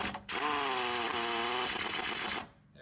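A power gun drives the center screw of a press tool during a rear wheel bearing replacement on a Ford Edge AWD, giving a loud, steady whirring whine that runs for about two seconds before stopping.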